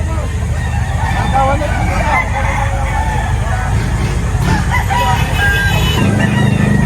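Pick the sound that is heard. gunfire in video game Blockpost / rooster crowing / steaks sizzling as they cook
rooster crowing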